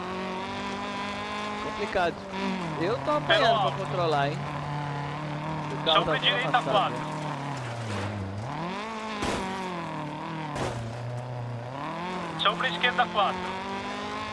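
Rally car in the racing game Dirt Rally, engine droning and revving up and down through gear changes with brief tire scrabble, loud and continuous beneath someone talking over it.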